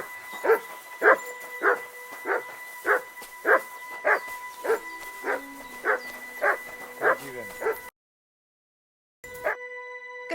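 A dog in the Kingdom Come: Deliverance 2 video game barks in a steady rhythmic series of about a dozen clear yips, followed by brief silence and more game sound, with no talking.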